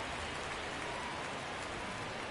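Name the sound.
rain falling during a baseball video game (RTTS)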